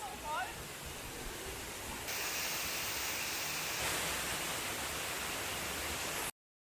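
Steady broadband roar of Tungtung Falls, a waterfall reached on a hike in Antipolo, Rizal, rushing continuously and fairly loud, swelling slightly partway through, with faint birdlike chirps at the start.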